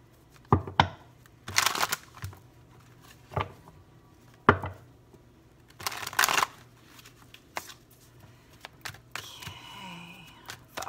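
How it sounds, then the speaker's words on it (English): Tarot cards being shuffled by hand close to the microphone, a series of quick riffling and slapping bursts spaced a second or two apart, with soft handling noises between and no talking. "Already pre-shuffled your cards. Just a final shuffle."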